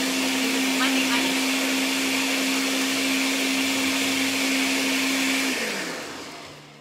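Countertop blender crushing ice for a homemade frozen Slurpee-style drink, a loud, steady grinding whir held for several seconds, then winding down as the motor stops.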